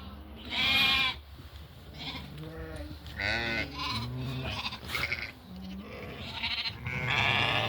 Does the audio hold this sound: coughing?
no